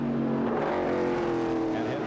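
NASCAR trucks roar through the S's at Sears Point during the 1995 Subway 100, a loud, continuous engine drone with shifting pitch, a commentator's voice running underneath.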